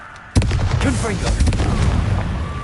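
Confringo, an explosive spell cast in Hogwarts Legacy, sets off a sudden close blast that rolls into a sustained, crackling rumble lasting several seconds.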